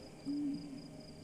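An owl in the video game Proteus gives a single soft, low hoot that rises and falls, set against a quiet ambient drone with a faint high tone.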